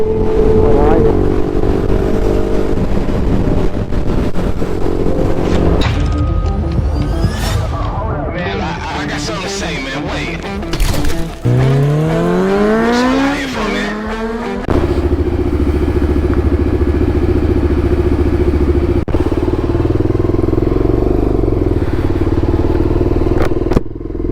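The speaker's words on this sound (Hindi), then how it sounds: "देखो एक बाइक और आ रही है बहुत तेज, ये देखो ये जा रही है फ्लाई बाय करते हुए" Fast motorcycles, including a Kawasaki ZX-10R, roar past on a road: loud engine drone with rising and falling revs and a clear pitch sweep as one bike flies by close, then a steady rumble continues.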